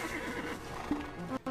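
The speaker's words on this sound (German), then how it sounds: "wir rufen mal unser Pferd." A horse in the Black Desert video game gives a clear neigh and whinny, close and moderately loud, with faint hoof clip-clop around it and no talk.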